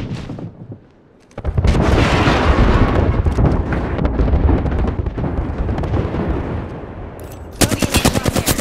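A grenade blast in a shooter video game erupts loud and close, followed by sustained heavy gunfire and explosive rumble for several seconds, with a sharp burst near the end.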